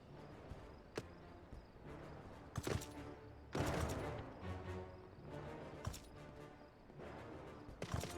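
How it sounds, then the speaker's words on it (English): Fireworks going off in Final Fantasy XIV, a string of sharp bangs and crackling bursts at irregular intervals over a steady ambient game background, some louder and closer, others softer. "There is definitely fireworks going on in there. I can hear them."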